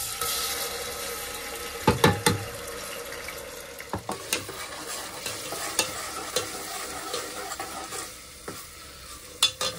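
Onions sizzling in a hot pan after red chilli goes in, with a continuous crackle and repeated scrapes and knocks of a spoon stirring, close and without speech.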